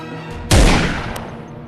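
A single loud gunshot hits with a sharp, booming attack, then rings out in a long reverberant tail that slowly fades; no voices are heard.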